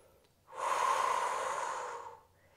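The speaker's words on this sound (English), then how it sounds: "Breathing in through the nose and out through the mouth as you slowly work through this movement." A single long, steady breath during a Pilates hip-mobility workout, drawn in through the nose and let out through the mouth, close and fairly soft, lasting about two seconds in an otherwise quiet room.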